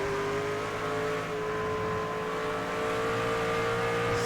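V8 SuperTrucks roar through a turn at Twin Ring Motegi, a steady sustained engine drone with a high tonal whine that rises slightly, loud and close with no talk.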